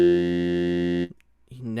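Helm synthesizer with a formant filter shaping saw and square waves into an E vowel: a steady, bright buzzing tone held for about a second, then a short gap before the tone resumes.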